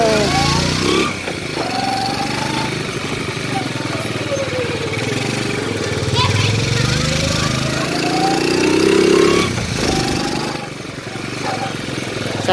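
Old Honda Cub motorbike with bare handlebars and an engine bored up to 72cc, running steadily through a test ride. The engine note rises and falls while people talk over it.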